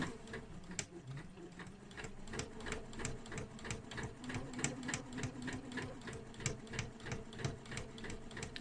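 A sewing machine stitches all the way around a zippy purse, a steady rapid mechanical clatter with even ticking strokes, close but fairly quiet, running continuously without talk.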